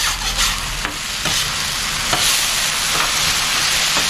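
Beef searing loudly on an overheated griddle beside chicken breasts for fajitas, a strong steady sizzle close up, broken by several metallic clicks and scrapes as tongs turn the meat, with no talking.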